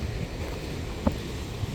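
Steady roar of ocean waves and wind on an island shore, a continuous broadband wash with a brief thump near the end, no voices.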